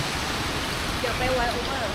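A steady broadband rush of a waterfall in Fukuoka, Japan on an autumn day, heard as a constant hiss from a spot beside the falls with a few faint higher tones drifting over it.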